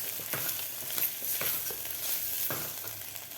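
Chili powder and spices being stirred into a frying masala for Khandeshi black-masala khichdi, a soft continuous sizzle broken by several quick scraping stirs of a spoon against the pan.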